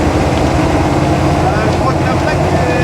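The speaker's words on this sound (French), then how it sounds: "il y a le gros moteur diesel mon cousin" Loud, low Humvee diesel engine rumble running steadily close by, with people talking over it.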